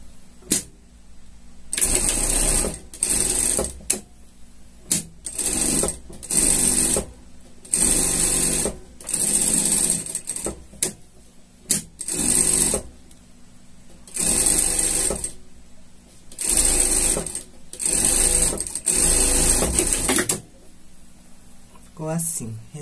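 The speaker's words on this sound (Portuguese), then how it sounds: "Passar uma costura de segurança aqui para espontar" A sewing machine stitches a security seam on a shark costume in repeated bursts, loud close whirring runs of a second or two separated by short pauses, with speech in between.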